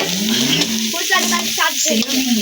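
Food sizzles and is stirred in a big wok with cumin powder, a steady frying hiss with scraping and stirring strokes while people talk nearby.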